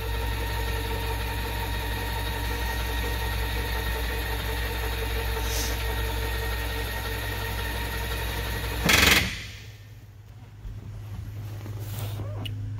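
A Mercruiser 7.4 liter MPI fuel-injected V8 with switchable exhaust in a 2000 Advantage 25 Citation boat runs at a steady, close idle drone, cuts briefly near the end, then settles at a lower rumble.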